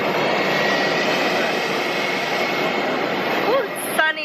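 A small passenger plane's engine at an airport apron roars steadily and loudly nearby, with a brief voice near the end over the constant whine.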